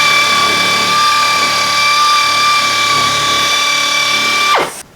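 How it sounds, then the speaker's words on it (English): Pneumatic air shears cut sheet metal for a custom storage box for a Model A hot rod shop truck, giving a loud, steady, high whine that winds down and stops just before the end. "So I'm going to get my air shears, I'm going to cut this out, nibble out these other corners"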